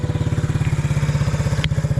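A Yamaha YFM 80 four-wheeler idles a little high after a fuel fix and new tires, with a steady, fast, even putter close by and one brief click near the end.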